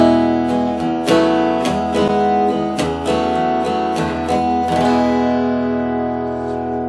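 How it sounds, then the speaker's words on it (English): Yamaha FGX5 acoustic guitar played through its pickup with the microphone turned fully up, bright strummed chords ringing out in a steady rhythm, close and full, the last chord left to sustain and fade. "it really sounds like just the amplified guitar acoustically"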